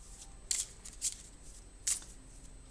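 Grand Tableau Lenormand cards handled to cover a spread make three brief, crisp flicks and slaps of card on card, close but quiet against a hushed room, with no talk.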